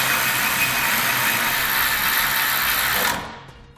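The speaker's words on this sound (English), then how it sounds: "We can then tighten those down using a 7/32 Allen key." Power driver spinning bolts tight with a 7/32 Allen bit while fitting Firestone Ride-Rite air helper springs: a loud continuous whirring buzz for about three seconds, then stopping abruptly into quiet.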